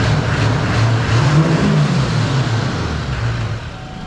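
A straight-piped 454 big block truck engine idling with a deep, loud, rumbling exhaust note that swells slightly in the middle and settles back, heard up close without talk.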